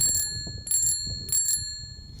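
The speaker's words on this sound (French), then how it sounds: "c'est une sonnette." A bicycle bell on a farm rings out in three short, bright bursts spaced roughly half a second apart, close and clear over faint background noise.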